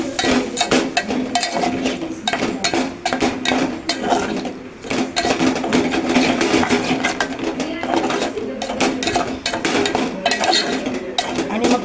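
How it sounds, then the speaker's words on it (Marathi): Vegetables are sautéed with ground masala paste in a pan, the spatula scraping and clinking against the metal in a busy, continuous rhythm over a low sizzle, with no voices. "असं परतल्यावर हे बघा छान परतून घेते मी"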